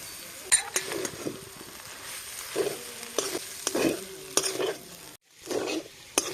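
Fried carrots, yardlong beans and chopped potato being stirred in a pan over a soft sizzle, with close, irregular scraping and clinking strokes of a spatula against the metal throughout.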